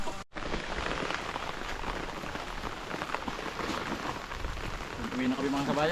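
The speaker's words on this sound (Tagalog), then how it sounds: "Itong simula ng pinahukay ko ito, ganito yung panahon. Laging umuulan." Steady rain pours outdoors during a rainy season, a loud, continuous hiss of drops hitting surfaces that runs unbroken, with a faint voice briefly in the background near the end.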